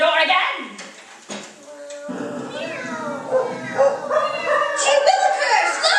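Radio sound effect: dogs bark and yip in a busy flurry with cat-like meows mixed in, loud and close, several animals overlapping in a short burst.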